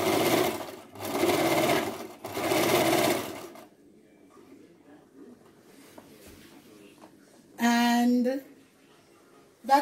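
Sewing machine stitching a fabric mask, three loud sustained runs of whirring motor with brief pauses, then a quiet stretch with faint handling and a short later burst.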